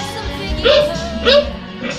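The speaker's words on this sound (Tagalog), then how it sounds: "Ang ingay ng aso namin." A dog gives two short, close yips or barks about half a second apart, over a low background murmur.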